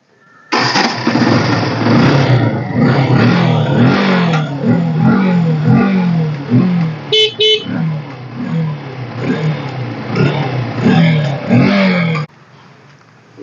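A Bajaj Pulsar 150 motorcycle, a 2013 self-start model, cranks and fires up, then is revved repeatedly in loud close bursts over a steady idle that continues for several seconds before cutting off.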